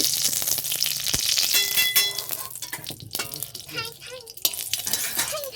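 Vermicelli sizzles and fries in hot ghee in a kadai, a steady close crackle with a few clinks of a utensil against the pan, while a voice talks intermittently over it.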